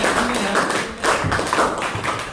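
Classroom applause from students, a patter of claps rising and falling in uneven bursts at moderate distance, with no talking over it.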